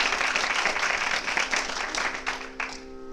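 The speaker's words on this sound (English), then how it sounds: "Definitely deserve another round of applause." A round of audience applause for a Carnatic music troupe at a Purandara Dasa Aradhana concert, a dense burst of clapping that thins out and fades toward the end.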